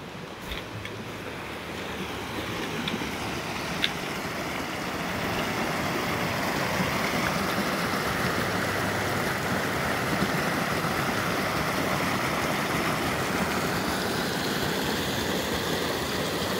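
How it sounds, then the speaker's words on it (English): A mountain creek rushes beside a hiking trail near Mirror Lake on the Duck Pass route, a continuous close watery roar that swells slightly after the first few seconds. "Such a pretty sound walking along the creek."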